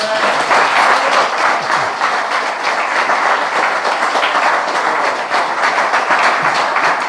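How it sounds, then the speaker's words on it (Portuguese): Sustained applause from a church congregation, dense and continuous clapping filling the whole stretch at a loud, even level. "Quero dar uma salva de palmas para Jesus aí, irmãos?"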